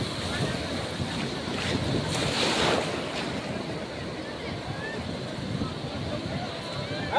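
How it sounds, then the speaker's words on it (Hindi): Strong sea waves surging onto Marina Beach in Chennai, a continuous roaring wash mixed with heavy wind buffeting the microphone, a louder swell in the middle. "लहरें बहुत ही तेज आ रही हैं"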